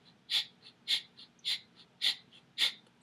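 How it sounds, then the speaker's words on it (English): Rapid nasal breath-of-fire breathing, bellows-like: five sharp, evenly spaced forceful exhales through the nose about half a second apart, close and fairly loud, with faint softer inhales between them and no talking. "breathing through your nose, and your abdomen from your diaphragm is going to go in and"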